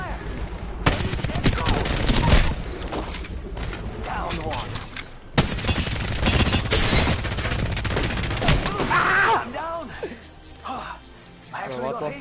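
Heavy automatic gunfire from Apex Legends runs almost nonstop in loud, dense bursts with sharp individual shots, briefly cutting out midway before resuming. Players talk over the shooting.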